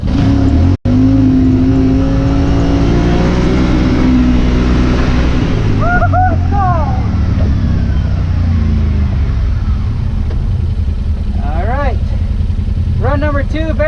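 A Yamaha Wolverine X4 side-by-side launches hard in four-wheel drive on a timed acceleration run, its engine droning loud and steady throughout, with brief squealing tire chirps and wheel spin layered over the roar.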